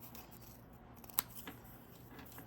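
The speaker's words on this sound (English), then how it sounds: "you're just cutting it out along the lines" Scissors make a single faint, close snip through printed freezer paper, cutting along the lines against a quiet room hum.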